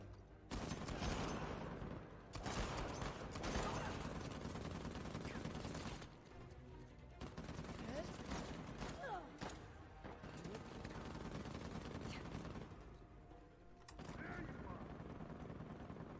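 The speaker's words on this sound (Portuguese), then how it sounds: "Os caras ficam atirando no nada, de tão louco que é o jogo" Enemy gunfire in Uncharted: The Lost Legacy, loud bursts of automatic shots and sustained volleys rolling across the whole stretch with short lulls between, dense and close, with no voices over it.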